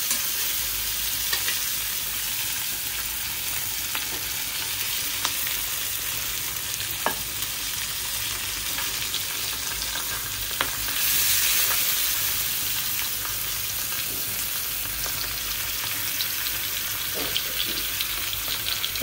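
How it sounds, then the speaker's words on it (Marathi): Fish frying in a pan with a generous amount of hot oil: a steady, close, full sizzle with faint crackles and scraping stirs running throughout, no talking. "एकीकडे मी खूप जास्तीचं तेल घालून मासे भाजते"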